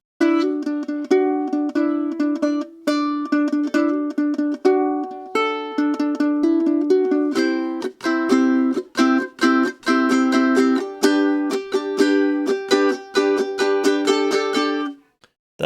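Ukulele strumming the verse of a song, bright chords in a steady rhythm broken by short percussive mute strokes, close and clear, played alone until the last chord stops.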